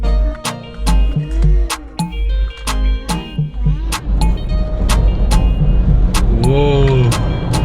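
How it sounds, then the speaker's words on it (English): A drive-through car wash starts up around a car, with a low steady motor rumble, sharp repeated clicks and rising whooshing spray, while people inside talk and exclaim over it. "car wash going to start now"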